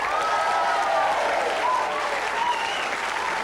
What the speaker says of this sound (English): So, a big round of applause, please, for Lorraine Grocott.